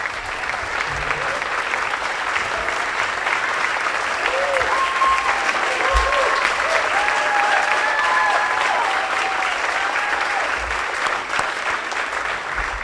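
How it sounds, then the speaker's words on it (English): Sustained applause rises from a banquet audience honoring standing student athletes, a dense, loud wash of clapping that holds steady throughout, with faint voices and cheers mixed in. "Maybe the athletes here tonight can stand and we can give them a round of applause."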